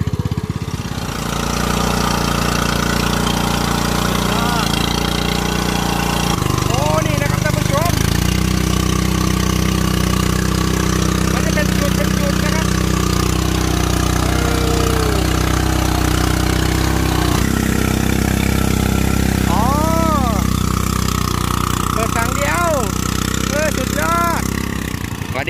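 A homemade Thai rice seeder machine's engine idles, a loud steady close drone running throughout, with people talking over it.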